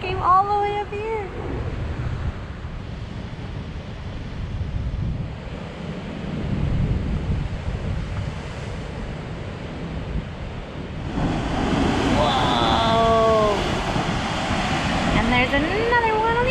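Waves on the rocky Easter Island shoreline surge into a sea cave, a steady roaring wash that swells louder partway through, with strong wind noise; a person talks briefly at the start and near the end.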